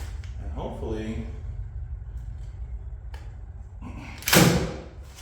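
A new crown staple gun driving a staple into the covering of a homemade camper built on a Harbor Freight trailer: one sharp, loud snapping thud near the end, after a stretch of quiet talking and handling noise.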